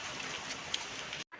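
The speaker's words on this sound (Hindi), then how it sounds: "बारिश इतनी ज़्यादा तेज़ आई" Heavy rain falls in a steady, dense hiss that fills the scene at close range, with scattered louder drops, before cutting off abruptly near the end.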